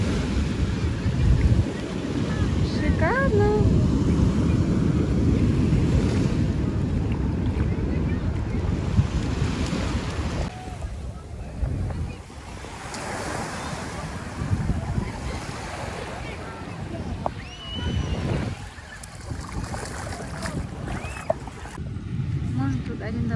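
Sea waves crash and surge continuously at the beach at Fiumicino, Italy, while strong wind buffets the microphone, with a few indistinct voices briefly audible beneath the roar.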